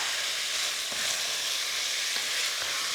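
Meat for Szeged goulash fries in a pan with a steady, dense hiss of sizzling, close and constant, with faint stirring scrapes and no voices.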